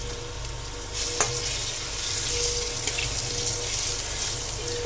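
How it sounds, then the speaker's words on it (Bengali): Potato pieces frying in oil in a pan, a dense continuous sizzle up close with faint stirring clicks, loud and unbroken. "এবার আমি ভালো করে এটাকে ভাজবো।"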